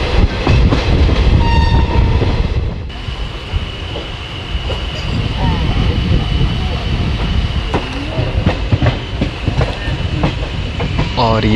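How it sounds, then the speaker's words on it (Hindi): Howrah-Jamalpur Super Express on the Khana-Kiul-Sahibganj loop rolls along steadily, a dense continuous rumble and rattle of the carriages with occasional clacks and short higher tones, close and loud throughout. "ट्रेन एकदम राइट टाइम में चल रही है"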